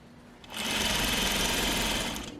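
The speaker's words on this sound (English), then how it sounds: "I'm just going to sew all the way around the edge" A sewing machine stitches steadily around the edge of a fabric garment, starting after a brief quiet moment and running as a continuous close, even whir with no talking.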